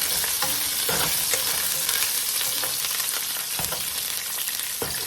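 Garlic fries in a pan with a loud, close, continuous sizzle, broken by repeated scraping and stirring knocks and no talking.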